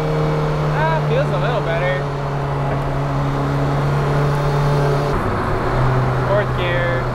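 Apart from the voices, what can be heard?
1.6L turbodiesel car driving in second gear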